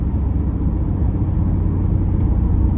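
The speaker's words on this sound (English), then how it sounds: "I mean, it just roars." Low, constant exhaust drone from a 2019 Mercedes-AMG C63 S tuned as a Brabus 900, heard from inside while driving, an unbroken heavy rumble for a few seconds with no speech.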